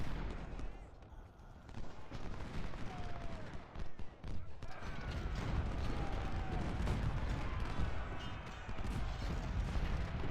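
Artillery and musket fire in the Civil War strategy game Ultimate General: Civil War, with repeated distant booms and crackling volleys layered into a dense, continuous battle din, joined by a few whistling sounds partway through.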